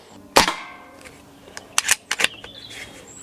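A Stoeger XM1 S4 PCP air rifle, 4.5 mm, 20 joules and suppressed, fires one sharp crack at a Coke can, followed by several quick metallic clicks and taps.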